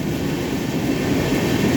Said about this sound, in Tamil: இது சென்னையிலேருந்து நிசாம்தீன் நியூ டெல்லி போகிற கரீப் ரத் ட்ரெயின்